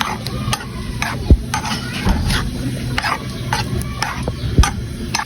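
Kwek kwek ingredients being mixed, regular clinks and taps of a utensil against a bowl in a quick rhythm, with a low sizzling hiss underneath and a couple of heavier knocks.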